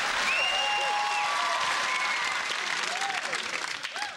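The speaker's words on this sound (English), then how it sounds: "they deserve a round of applause" Game show studio audience applauds contestants: sustained crowd clapping at moderate level, with a host's voice speaking over it and fading slightly toward the end.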